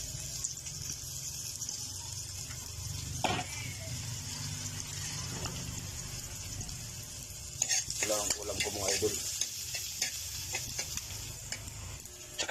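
Garlic, onion and a little ginger sautéing in a pan for sardines with egg, giving a constant hiss of frying with occasional stirring scrapes, close but fairly soft, without speech.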